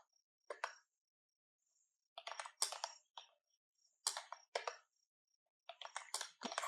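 Typing on a wireless keyboard paired to an Android device: short bursts of close, crisp key clicks separated by pauses, quiet and alone.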